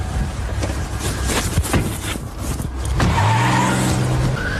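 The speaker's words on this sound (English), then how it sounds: "We got a vehicle taking off on us." A car speeding away from police during a traffic stop, tires squealing and engine revving up close, loud and continuous with a rising pitch as it pulls off.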